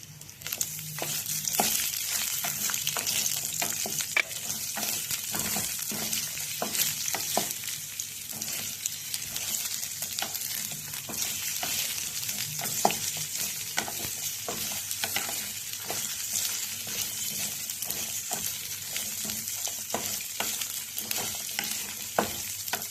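Sliced onions sauté in a pan for a spicy kara chutney, a steady dense sizzle with faint stirring scrapes running continuously at moderate level, no voices.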